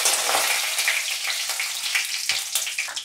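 Whole cumin, bay leaves and dried chilli frying in hot oil over lowered heat, a steady close crackling sizzle with scattered sharp pops throughout, no voices.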